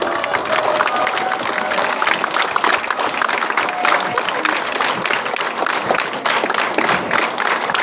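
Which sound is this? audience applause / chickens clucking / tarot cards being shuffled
audience applause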